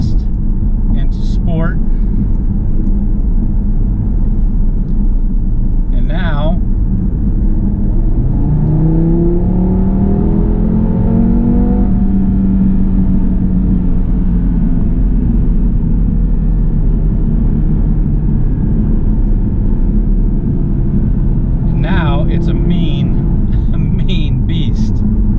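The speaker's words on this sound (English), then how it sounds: "You have the gearbox in sport. You can put your exhaust into sport." A 2018 Audi TT RS with gearbox and exhaust in sport mode, its engine droning and swelling through a rising rev while someone talks over it, with a few sharp bursts near the start and end.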